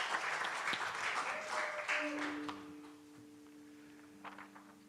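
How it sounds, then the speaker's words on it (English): Applause from a congregation at an Easter Sunday church service, a brief burst of clapping that fades out within a couple of seconds, with sustained musical tones lingering underneath afterward. "a big round of applause to our musicians today."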